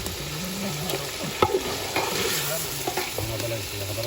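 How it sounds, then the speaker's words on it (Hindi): Mutton pieces fry in a pot for namkeen gosht, a steady close sizzle with scraping stirs and occasional clanks of a spoon against the metal, cooked outdoors in a village. "अब देखो दोस्तों 5 मिनट हो गए उसको फ्राई करते हुए"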